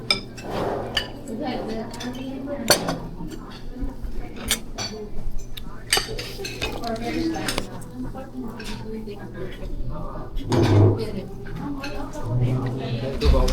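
Cutlery stirs and scrapes in a dish, giving sharp clinks and taps scattered irregularly over a noisy room while people talk nearby.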